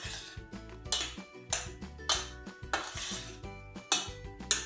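A spoon clinks and scrapes against a dish while pomegranate sour syrup is mixed in, a series of sharp metallic taps and scrapes in an irregular rhythm, close and moderately loud, with music playing underneath.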